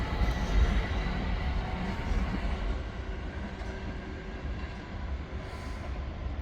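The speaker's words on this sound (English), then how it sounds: "departing over here we have our set of 377s working in service again to London" A Class 377 electric train pulls out of Clapham Junction in the evening rush, bound for London Victoria, with a loud steady rolling roar of wheels on track, close by and without talk.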